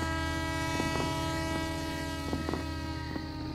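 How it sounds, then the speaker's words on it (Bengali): A train pulls out of a small station platform, a continuous low rumble with steady tonal drone and a few sharp clanks of wagons passing, moderately loud and alone without talk. "ক্রমে ট্রেন বেরিয়ে গিয়ে স্টেশনটা একেবারে খালি হয়ে গেল"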